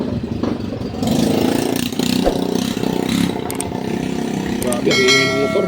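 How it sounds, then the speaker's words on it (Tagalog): A loud motorcycle exhaust roars and revs in bursts close by outdoors, rumbling steadily underneath someone talking. "Grabe, ang ingay ng motor."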